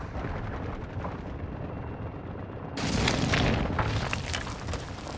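An A-10 airstrike in Modern Warfare 2 sets off booming explosions, with a sudden, louder burst of blast and debris noise arriving midway and rumbling on over steady battlefield ambience.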